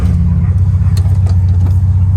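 A 1970 Volkswagen Beetle engine on a test drive, producing a steady, loud low drone with a rough pulsing rumble that continues throughout, with no talk.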